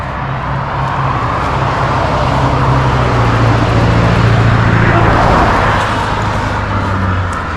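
Heavy road traffic on a roadside near the Appalachian Trail, with big trucks passing: a continuous loud rumble and engine drone swells and fades as vehicles roll by close, with no voices.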